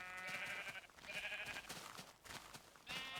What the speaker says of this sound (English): Oh my god, all these sheep spawned in this little pit.